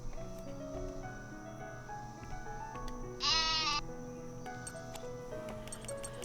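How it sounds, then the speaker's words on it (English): Moose sheep in the video game Fuga: Melodies of Steel 3 let out a single clear bleat midway, set over a steady game music bed with faint chirping. "Moose sheep are just so fluffy and adorable."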